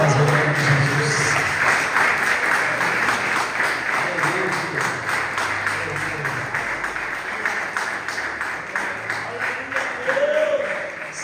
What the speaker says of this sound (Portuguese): dá uma salva de palmas em nome de Jesus